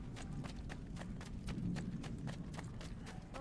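Horse hooves clip-clop at a steady, rapid rhythm in the Assassin's Creed 2 video game, a close, continuous trot with faint background sounds.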